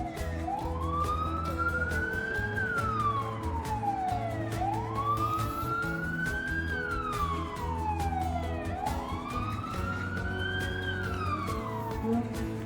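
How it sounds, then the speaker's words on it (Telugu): Fire engines at an emergency in a city street in Jiaxing, China, their siren wailing in three long rising-and-falling sweeps over a low traffic hum, moderately distant and continuous. "సంథింగ్ ఏదో ఎమర్జెన్సీ అనుకుంటా. ఫైర్ ఇంజన్లు అన్నీ ఉన్నాయి అక్కడ."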